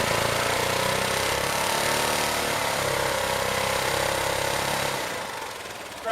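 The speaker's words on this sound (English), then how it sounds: "We'll rev her up to 4 grand." A Kawasaki KLR motorcycle engine held revved at about 4000 rpm, a loud, steady buzzing roar with harmonic whine that drops away near the end, no speech over it.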